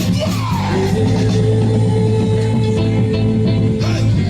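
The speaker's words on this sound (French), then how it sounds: "Crie de guerre. Crie de guerre." A crowd at a wedding consecration celebration shouts a war cry together, loud, dense and continuous yelling and whooping with musical tones underneath throughout.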